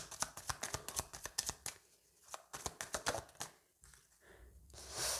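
A deck of tarot cards is shuffled and drawn, giving quick papery riffles and flicks in an uneven rhythm, close and fairly quiet, ending in a softer rustle.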